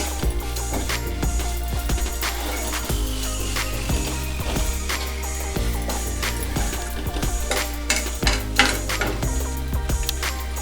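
Mint leaves frying for pudina pachadi in a pan, a steady sizzle under repeated metal-spoon scrapes and clinks against the pan as the leaves are stirred.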